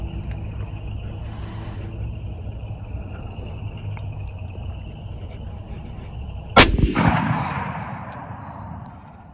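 A single loud rifle shot cracks out while deer hunting, a sharp close blast followed by a few seconds of decaying echo across open ground, over a steady low outdoor rumble.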